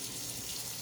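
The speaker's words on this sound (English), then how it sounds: "Now with room temperature water," Room-temperature water pours steadily and softly into a bowl to soak bread for a banana bread pudding, a brief continuous splashing stream with no voices.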